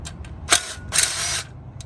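Screws backed out of a Honda outboard lower unit give two short, close ratcheting bursts, the second one longer, with faint clicks before and after and no voices.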